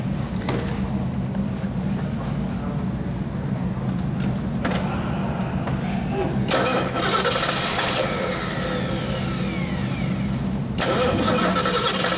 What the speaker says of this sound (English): We'll see if she fires up.